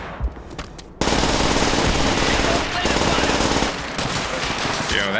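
Rapid automatic hipfire bursts from Call of Duty: World at War crackle loudly and almost continuously after a brief quieter lead-in, with sharp repeated reports and a short gap near the end.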